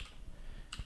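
Keystrokes on a computer keyboard, a few soft, closely spaced clicks near the end of a short, quiet stretch, close by with no talking over them.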